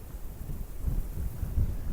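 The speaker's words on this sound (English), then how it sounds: "It's very windy up here." Wind buffets a Boya microphone with a small, ineffective windshield on an exposed hilltop at Steephill Castle in Ventnor, Isle of Wight. It makes a constant low rumble with irregular gusty thumps and no other clear sound.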